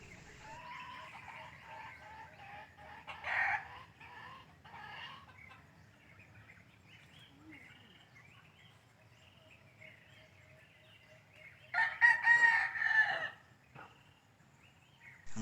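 A red junglefowl (wild rooster) crows loudly near the end, a clear strained call rising over quieter clucking and faint farmyard background earlier on.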